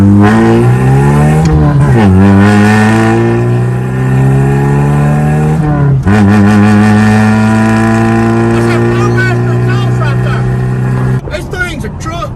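A manual-transmission car with a racing steering wheel revs hard, its engine pitch climbing through several gear pulls with brief drops between shifts, loud and close throughout, with a sputtering finish and a voice talking faintly over it.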